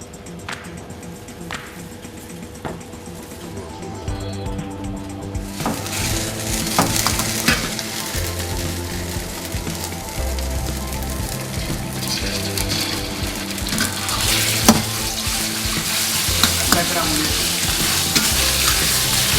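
Oil heating in a frying pan for a Japanese-style pasta, a low crackle that swells into a loud, dense, continuous sizzle with occasional clinks and stirring, close up and with no voices.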